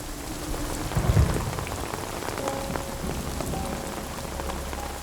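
Steady rain falling beside a pool, a dense continuous patter with a few heavier drops near the start. It is moderately loud and nothing else is heard.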